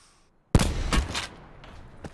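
A sudden burst of gunfire breaks the silence in a battle royale video game match, one sharp loud shot followed by a few quicker, fainter reports trailing off.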